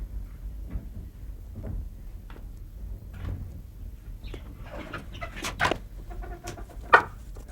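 Hens cluck and squawk in short scattered bursts with quiet gaps, a louder sharp call near the end, no talking.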